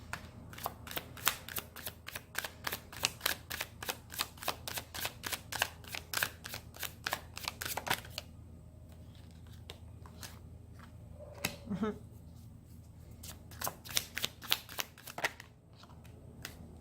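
Tarot cards shuffled by hand, a rapid run of crisp riffling snaps for several seconds, then quieter scattered taps and slides as cards are pulled and laid down, close up, with a soft voice briefly in between.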